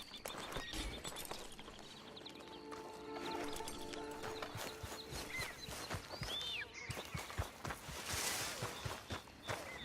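Horse hooves clip-clop steadily in the video game Red Dead Redemption 2, a near, fairly constant walking rhythm with a short whinny and a bird call over ambient game sound, no talk.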